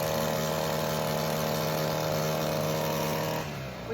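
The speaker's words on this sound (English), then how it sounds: "The weed eating has begun." A gas-powered string trimmer runs outdoors in a steady, loud, buzzing drone that holds constant and then eases slightly at the end. No one speaks.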